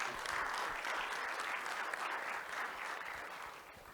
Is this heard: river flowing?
no